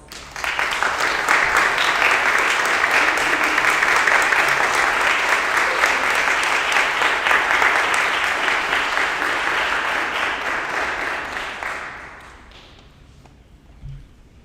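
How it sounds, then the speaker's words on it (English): Sustained, dense audience applause at a school fine arts awards assembly, many hands clapping, steady and loud for about twelve seconds before quickly fading out to near silence. "Please join me in a round of applause."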